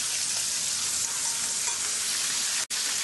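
Jerk chicken sizzling in a very hot pan, a loud continuous frying hiss that stays even throughout, broken only by a split-second gap near the end, with no talking.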